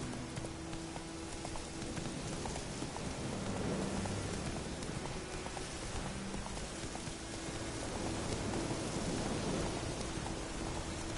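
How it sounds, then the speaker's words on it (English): Steady game rain in The Witcher 3: Wild Hunt, a dense continuous hiss of drops on surfaces with a faint low rumble underneath, holding level throughout without voices. "Let it rain."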